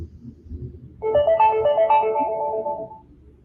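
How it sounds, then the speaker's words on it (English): A phone's melodic ringtone chimes for about two seconds over a low room hum, loud and close, with no talking over it. "that's my phone."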